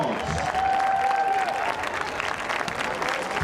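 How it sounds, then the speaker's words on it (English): Audience at a class reunion ceremony during a high school football game breaks into steady clapping throughout, a dense crowd applause with a brief tone sounding early on. "Let's give them a round of applause."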